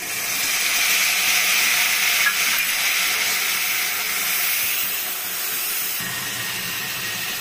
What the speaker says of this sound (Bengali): ভাজা হয়ে গেছে, এখন আমি এই মশলাটা দিয়ে দিচ্ছি।